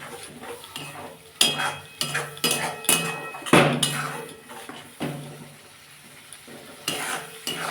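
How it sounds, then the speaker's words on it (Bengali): Spinach, coriander leaves and cut rohu-style fish curry with cumin powder stir-fried in a pan: repeated scraping and stirring strokes with a soft sizzle underneath, close and moderately loud, with occasional utensil clinks against the pan. "বন্ধুটা আমি এটা ভালো করে কষে নেবো"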